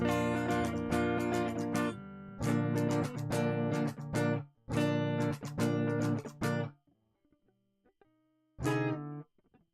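Guitar rhythm chords in short bursts, choppy strummed groups separated by pauses, loud and close, ending with one last chord after a brief silence.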